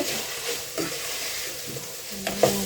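Pork menudo being stirred in a frying pan, a steady sizzle with soft scraping strokes of the spoon, close and alone.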